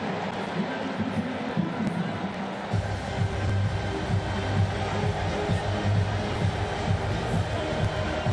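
Large crowd at a cricket match: a steady, loud wash of murmuring spectator noise and babble fills the stadium throughout, swelling slightly after the first few seconds with no clear single voices.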